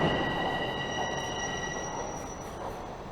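A Toronto train rolls steadily past near the SkyDome with a loud, continuous rumble and a high, sustained squeal of wheels on rails, close and unbroken.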